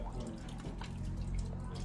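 Water runs steadily at the Arizona Mystery Shack, a constant hiss with faint drips that continues throughout.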